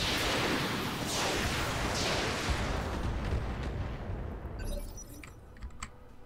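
Weapons fire and explosions aimed at an enemy mech in the video game Roguepoint, a dense roaring rumble of blasts and impacts that gradually fades into scattered clicks and softer hits, with no talking.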